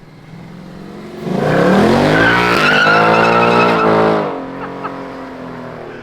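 A Ford Mustang pulls away with a loud engine roar and tire squeal that swells quickly, holds for a few seconds, then fades into the distance.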